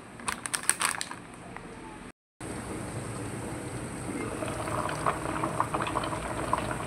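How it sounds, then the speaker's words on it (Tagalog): A pot of water with corn boils with a steady, dense bubbling hiss, with some sharp clicks at the start and a brief dropout. "Habang kumukulo na yung mais ko doon."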